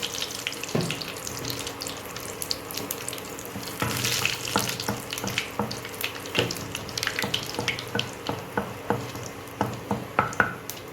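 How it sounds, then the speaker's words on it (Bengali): Bay leaf, dry red chilli and nigella seeds sizzle in hot oil in a pan as a continuous crackling hiss, with sharp pops and spatters scattered throughout, close up and without speech. "তেল গরম হয়ে গেছে, এখন আমি তেজপাতা, শুকনো লঙ্কা সম্বর দিব, আর অল্প একটু কালো জিরা।"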